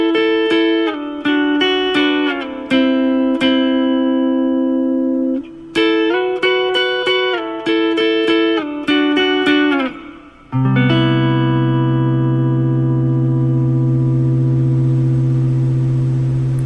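A guitar intro riff to a song: crisp picked notes and short chord stabs in a relaxed rhythm, ending on a long sustained low chord, played close and solo.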